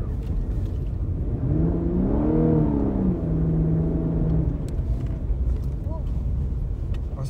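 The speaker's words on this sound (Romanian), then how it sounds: "A plecat mașina." A Lexus car pulls away and accelerates in sport mode, its engine rising in a steady rumbling whir that swells then fades as it moves off, with no talk over it.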